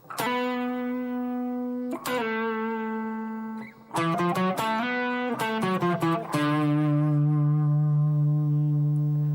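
An electric guitar plays a blues fill from the B blues scale, with a sustained bent note, a quick run of picked, hammered and slid notes, then a long ringing final note, close and alone.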